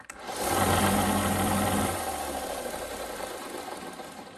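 A belt sander in a pipe-making workshop roars up loudly, holds a steady whirring drone, then winds down as the motor slows, heard close up with no talking.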